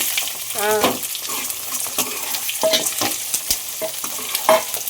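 Half a kilo of garlic frying in a hot kadai, with crackling sizzle and repeated scraping strokes of a spoon stirring through it, close and fairly loud.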